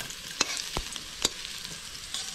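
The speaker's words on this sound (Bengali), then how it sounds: "ঘাটকল শাপলার মতো ভাজা হয়ে গেছে" Ghatkol aroid stalks frying in oil with salt and turmeric in a village kitchen: a steady sizzling hiss, broken by a few sharp stirring clinks against the pan.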